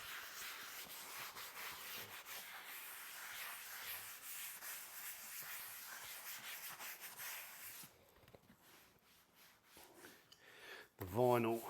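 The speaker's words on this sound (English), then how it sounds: "The vinyl, I'm just going to give that a little sand." Abrasive rubbing on a worn vinyl car seat during leather-look restoration, a steady scratchy sanding texture for most of the stretch, then quieter with a few strokes and a brief louder sound at the end.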